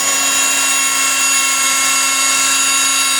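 A continuous high-pitched motor whine with a steady hum, loud and unbroken throughout, from a drill press running a sharp bit.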